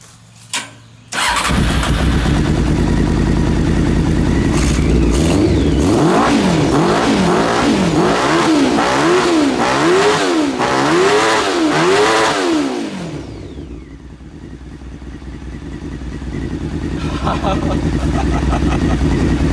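A four-cylinder Honda CBR 600 engine in a reverse trike starts and then revs up and down again and again, loud and close, before settling back to a steady idle. Voices can be heard under it.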